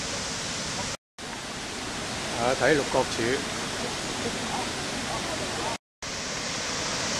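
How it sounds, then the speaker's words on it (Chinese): Waterfall at its source near Jingpo Lake pours in a constant, close, roaring hiss, while someone speaks briefly over it partway through. "嗰邊就係啦，瀑布源頭啦。"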